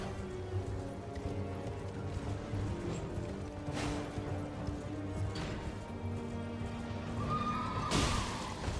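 A horse in the video game Elden Ring neighs and whinnies amid clip-clopping hooves, with a few sharp crashes and impacts breaking through a steady background.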